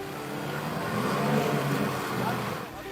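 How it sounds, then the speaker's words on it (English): A motorboat engine drones steadily with rushing water and wind noise at sea off the coast of Tunisia, loud and continuous throughout. "This boat, for example, trying in vain to outrun the Coast Guard."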